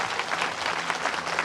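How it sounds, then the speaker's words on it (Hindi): Applause from the audience at a religious gathering in the village of Mau: a short burst of many hands clapping fast and unevenly, fairly close and continuous. "चलो जोरदार तालियां बजाओ, बजाओ इनके लिए जोरदार तालियां।"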